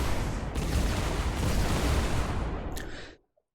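Continuous heavy rumbling of explosions in Fortnite, dense and loud for about three seconds before cutting off abruptly into silence.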